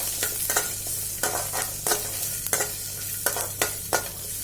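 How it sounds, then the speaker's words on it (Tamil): Onion sautés in oil in a kadai under a steady sizzle, punctuated by a series of sharp, regular spoon scrapes and stirring clatters at close range. "அந்த வெங்காயத்தோட பச்சை ஸ்மெல் போகிற வரைக்கும் நல்லா வதக்கி எடுத்துக்கலாம்."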